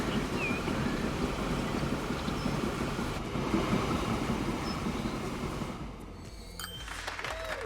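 A train in Transport Fever 2 runs toward Carson City Cargo Station, heard from the cockpit as a steady, loud rolling rumble that eases slightly near the end.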